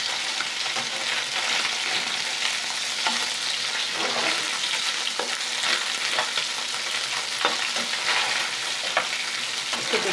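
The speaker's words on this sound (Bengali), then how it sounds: "এই যে ট্যাংরা মাছটা দেখুন ভালোভাবে ভাজা হয়ে গেছে।" Small tangra fish fry in a pan of oil with a dense, constant sizzle and spatter, and light utensil scrapes recur through it at close range.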